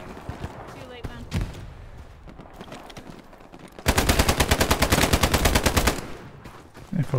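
Sustained machine gun fire in the World War II shooter Hell Let Loose, a loud rapid burst of evenly spaced shots lasting about two seconds after quieter battlefield noise and scattered distant gunfire.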